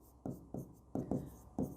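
Chalk or marker taps and short scratches on a board in a chemistry classroom, a handful of quiet strokes arriving in an uneven rhythm, close by and alone.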